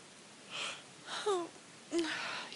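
A tired person yawns close to the microphone, with breathy, drawn-out exhalations and a few rising-and-falling vocal squeaks over a quiet background.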